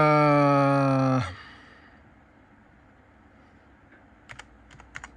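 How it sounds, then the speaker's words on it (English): A loud steady electronic tone cuts off at the start, then after a quiet stretch a computer keyboard gives a few quick, close keystrokes in small clusters near the end. "Okay, I'm gonna type in,"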